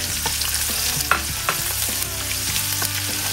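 Onions and garlic sauté in a hot pan for pork sinigang, a constant close sizzle punctuated by a few sharp spatula scrapes and taps, with no talk over it.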